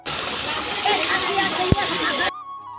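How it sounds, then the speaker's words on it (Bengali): Water drawn from a nearly dried-up pond in hot sun and poured out, a steady splashing, sloshing stream with one sharp knock partway through, cutting off abruptly near the end. "তাই যে দেখো জল দিচ্ছে কিভাবে।"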